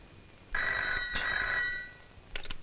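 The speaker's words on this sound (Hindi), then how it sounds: "मधु, तुम्हारी माजी का फोन।" A telephone bell rings indoors in two bright, clear rings, followed by the start of a third, with no talk over it.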